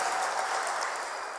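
A church fundraiser crowd claps for donors, steady soft applause at a distance, without talk over it.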